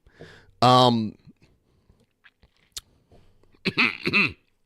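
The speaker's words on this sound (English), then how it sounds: "I got some coughs." A person gives a harsh throaty cough, followed after a quiet gap by a cluster of short, voiced coughs close to the listener.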